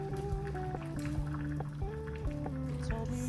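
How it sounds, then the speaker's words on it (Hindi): Tamarind water is poured into a pot of sambar, a soft liquid splash and trickle running beneath steady tonal background music. "नाउ विल पुट इमली का पानी इन इट।"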